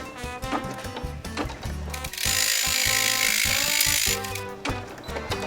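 A Brother M370 embroidery machine stitches a fluffy coaster, producing a steady, rhythmic mechanical clatter and whir with a ratcheting quality, loud and continuous with no talking.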